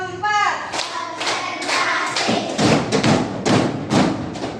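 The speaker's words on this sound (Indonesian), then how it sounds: "Tepuk 1, tepuk 2, tepuk 3, tepuk 4," Classroom clapping routine with a group of children clapping their hands in counted bursts: repeated sharp, loud claps in an uneven rhythm, with voices chanting along close by.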